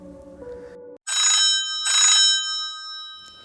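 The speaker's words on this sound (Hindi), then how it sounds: "सुबह सुबह असद की आंख फोन बजने से खुली।" A phone rings in two bright electronic bursts after a short low musical tone, a loud clean ringtone used as a sound effect in a narrated audio story.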